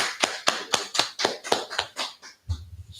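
A group claps in a slow, even rhythm, about ten sharp, distinct claps roughly a quarter second apart, close and loud, ending with a brief low rumble.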